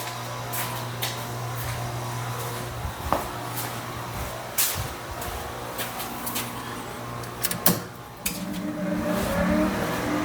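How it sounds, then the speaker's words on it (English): Prime Weld Cut 60 plasma cutter, paired with an Arcdroid CNC table, firing up: a steady low hum with scattered clicks and knocks, then a louder, fuller whirring hiss that takes over for the last two seconds, with no talking. "get the prime weld cut 60 fired up, and we'll cut it out."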